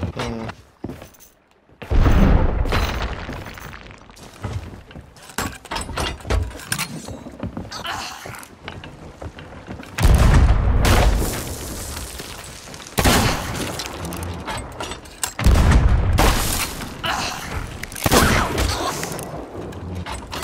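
Flame bombs and a blunderbomb go off in a pirate video game, giving several loud booming explosions spaced across the stretch. Clattering and scattered bangs fill the gaps between them.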